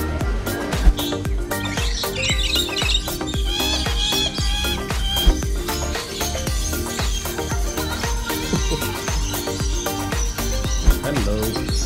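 Birds chirping inside an aviary enclosure at a bird park in Kuala Lumpur, Malaysia, with repeated tweets and calls layered over dense background noise and occasional sharp clicks.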